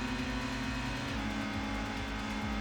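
Race car engine held at high speed in Gran Turismo on a high-speed ring, a steady, loud droning whine with a constant pitch and no talking.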